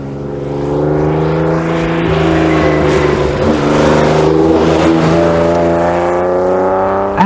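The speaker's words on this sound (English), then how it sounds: "All Astons have got a lovely exhaust note." An Aston Martin engine and exhaust note, loud and close, holding a steady strong drone that rises and settles over several seconds, with no talking.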